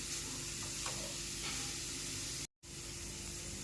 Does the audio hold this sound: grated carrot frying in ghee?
yes